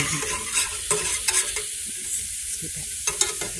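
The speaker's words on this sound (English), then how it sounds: "Got to turn my onions. Onions are sauteing." Onions sautéing in a pan for broccoli cheddar soup, a soft continuous sizzle broken by several scraping stirs of a utensil against the pan, close by with no talk.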